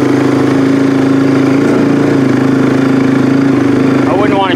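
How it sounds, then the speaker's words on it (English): A small 250 two-wheel-drive vehicle idles in neutral on a hill while logs are hauled, its loud, steady engine drone close by throughout, with a brief rising rev near the end. "Even that, even in neutral, it'll still take off. Just a little 250 two-wheel drive."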